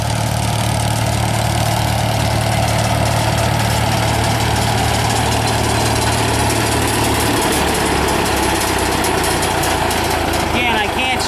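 A 2000 Bandit Model 65 trailer-mounted self-feed wood chipper runs at a steady loud drone, its engine rumbling continuously with a shift in tone partway through, while someone talks over it.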